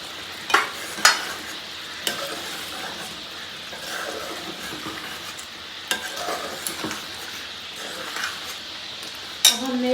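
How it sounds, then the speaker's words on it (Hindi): Boiled eggs being stirred into a potato curry frying in a pan: a steady soft sizzle with intermittent scraping and clinks of a spoon against the pot. "हमने तकरीबन 5 अदद अंडे बॉईल कर लिए थे, हम ये इसके अंदर अब डाल देंगे।"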